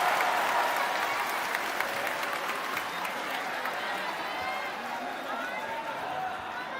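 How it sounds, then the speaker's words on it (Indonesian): Audience applause at a televised Indonesian public dialogue on teachers' pay, a steady crowd clapping that holds at full strength throughout, then eases slightly toward the end. "Tepuk tangan dulu dong."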